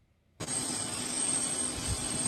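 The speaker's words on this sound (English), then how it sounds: "I'll just put it on real low so you can just hear a little bit of the chopper sound." Helicopter rotor and engine noise from a news broadcast played back, starting abruptly after near silence and holding as a steady, loud, dense whir with a thin high whine throughout.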